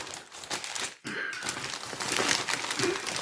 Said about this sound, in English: This is a weird plastic bag.